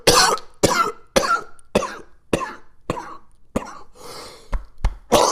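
A man coughs in a rapid series of about nine harsh, forceful bursts, close to the microphone, each separated by short gaps of near silence.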